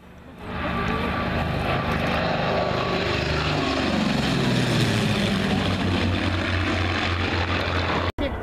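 Vintage warbird propeller airplanes, including a B-25, Zero, P-51, P-40 and F6F, fly overhead with a loud, continuous engine drone whose pitch sweeps downward as they pass close by.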